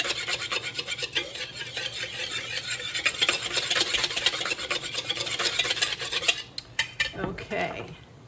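A whisk scraping and rattling rapidly against a bowl as it stirs a starch mixture to break up lumps, a close, continuous rasping rhythm that slows into a few separate clinks at the end.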